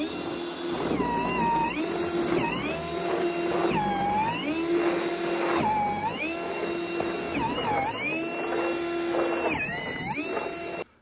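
A Makita 18V cordless snow blower shovel whines as it chews through heavy wet snow, its motor pitch dipping and rising repeatedly under changing load, close and steady throughout.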